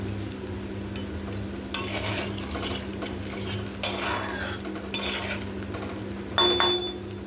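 Vegetable curry for tiffin cooks in a pan, with a steady low sizzle and stirring scrapes, plus occasional light clinks of utensil against the pan near the end.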